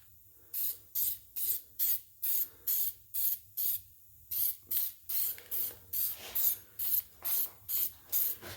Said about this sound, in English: what I do with spray paint is I just kind of tap it little at a time